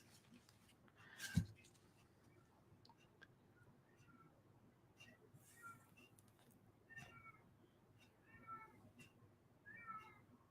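A house cat meows again and again in the background, faint and some distance away, several short calls scattered through a quiet room with no one talking.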